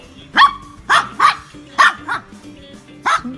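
A Maltese dog barks loudly and close by indoors: about six sharp barks in an uneven rhythm, some coming in quick pairs, with short pauses between them.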